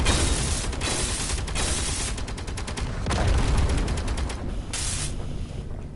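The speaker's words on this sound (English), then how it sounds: "Assault cannon is back up." Rapid bursts of heavy automatic assault cannon fire in a sci-fi shooter game, loud and sustained with short pauses between volleys and dense mechanical clatter throughout.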